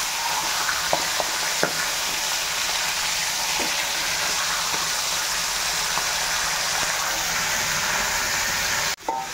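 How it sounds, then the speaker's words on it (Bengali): Fish frying in hot oil in a home kitchen, a steady close sizzle and hiss lasting throughout with a few small pops and spatters, no talking. "তার জন্য একদিকে মাছ ভাজা হচ্ছে"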